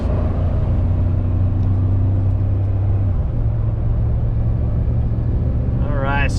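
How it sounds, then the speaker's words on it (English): A 2004–2010 Ford F-150 pickup cruising on an icy, snowy freeway, its steady engine drone and road rumble filling the cabin continuously from start to finish. "Alright, so we're cruising on the freeway."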